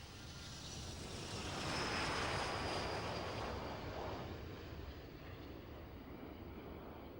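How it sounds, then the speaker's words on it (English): Seven display team jets take off together at the 1999 Royal International Air Tattoo air show, a broad distant engine roar that swells to a peak and then slowly fades, heard on its own. "And here they are in the display, taking off, with their smoke streaming. All 7 aircraft taking off together."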